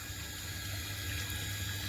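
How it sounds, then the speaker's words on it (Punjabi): A water pump motor pushes out a full, strong stream of water, with a pipe leaking near the base. It makes a steady, unbroken rushing hiss with a low motor hum underneath, close and continuous throughout. "ਫੁੱਲ ਮਾਰਦੀ ਹੈ ਧਾਰ ਪੂਰੀ ਖਿੱਚੀ ਆਉਂਦੀ ਆ ਕੱਸੀ ਦੇ ਪਾਣੀ ਨਾਲੋਂ ਵੱਧ ਖਿੱਚਦੀ ਆ"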